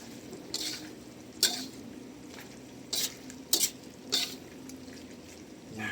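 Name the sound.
stirring margarine and garlic in a pan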